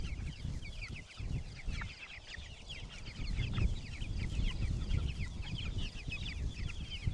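Flock of farm chickens clucking continuously outdoors, a steady busy chatter of overlapping calls with ground noise underneath and no one speaking.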